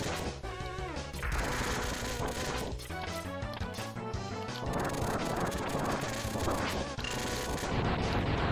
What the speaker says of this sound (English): I'm just kind of curious how quickly I can kill him with the fire wave.